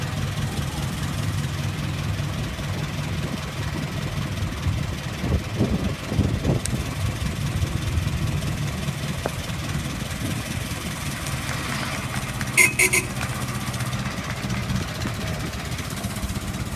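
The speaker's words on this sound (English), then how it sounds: "We're driving a 1922 Ford." A 1922 Ford car engine running at an outdoor event, a steady low rumbling idle heard from close by over crowd ambience, with brief clanks near the end and some talk in the background.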